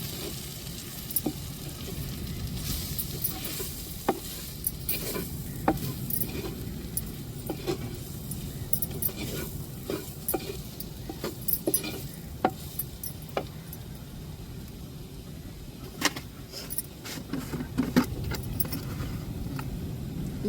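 Kuzhambu masala powder sautéing in a pan for a Tamil samba prawn curry, a soft continuous sizzle broken by frequent sharp clicks and scrapes of a spoon against the pan.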